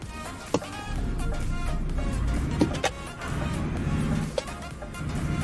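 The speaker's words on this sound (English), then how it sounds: "Crunching them gears." A lorry in Euro Truck Simulator 2 with a steady engine drone and a few sharp clunks as the gears crunch, spaced a second or two apart.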